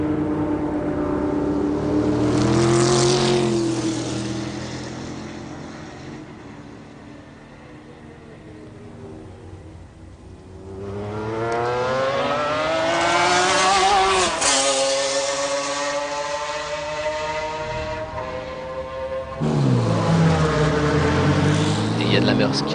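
McLaren F1 GTR race cars at Le Mans in 1996 brake and accelerate through the first chicane, their engines dropping in pitch, then rising again as they pass. French commentary runs over the sound.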